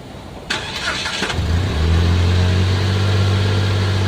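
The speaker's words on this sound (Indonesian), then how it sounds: "Nah sekarang gue akan coba hidupin mesinnya ya." A used car's engine cranks with a brief rapid whirring starter burst, catches, then settles into a steady low idle hum, close and clear with no talking.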